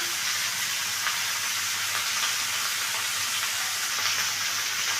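Chopped tomatoes sizzle steadily in a hot pan of mixed vegetables with dried fish, a continuous close crackle and hiss with no voices.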